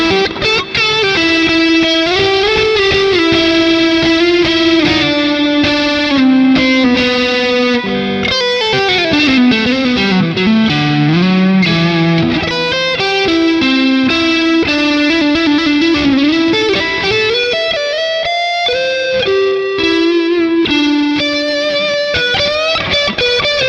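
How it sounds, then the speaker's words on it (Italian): Soundsation Rider Blend electric guitar played through its neck pickup with effects, a warm, loud melodic line with sustained notes and bends running continuously for the whole stretch, no talking. "Pick up al manico che a me piace particolarmente."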